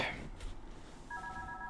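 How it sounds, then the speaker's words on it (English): A telephone rings in the horror video game One Night at Flumpty's, a short steady electronic ring starting partway through over a low background drone, with no talk heard. "Oh, getting a phone call."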